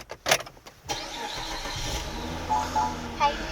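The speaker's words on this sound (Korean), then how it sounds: "브레이크 밟고 시동 걸어 볼게요 6기통이니까 엔진 소리 한번 잘 들어보세요" A 2.5-litre V6 engine in a Renault Samsung SM7 car cranks and catches, then settles into a steady, deep idle close by, with a couple of brief revs.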